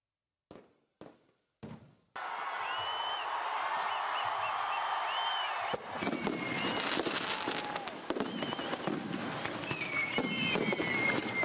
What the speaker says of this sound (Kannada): ಹಸಿರು ಪಟಾಕಿ ಸಿಡಿಸುವ ಮೂಲಕ ಸಾರ್ವಜನಿಕರು ಹೊಸ ವರ್ಷವನ್ನು ಬರಮಾಡಿಕೊಂಡರು